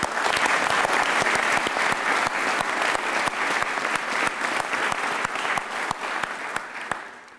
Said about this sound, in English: I just want to give you another tremendous applause.